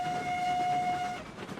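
A steam locomotive whistle in the Railroads Online train game sounds one long steady blast over rumbling rolling and engine noise, then cuts off while the train keeps running.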